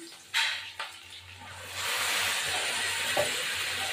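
Chicken marinated with ginger, garlic, chilli powder and yogurt goes into a pan of fried onions; a couple of sharp knocks lead into a rising, steady hissing sizzle that fills the rest of the moment.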